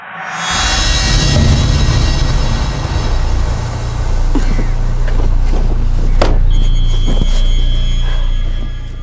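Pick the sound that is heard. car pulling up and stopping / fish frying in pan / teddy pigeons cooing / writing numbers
car pulling up and stopping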